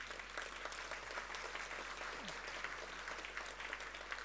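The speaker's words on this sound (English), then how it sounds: "let's give them a round of applause" An audience at a heritage awards ceremony claps in a steady round of applause, dense and continuous, heard from within the hall with a low hum underneath.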